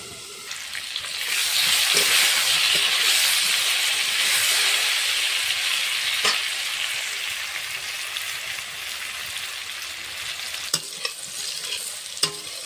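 Potato pieces fry and are stirred in hot oil for a rohu fish curry, a steady close sizzle with occasional scrapes and clicks of the spatula throughout.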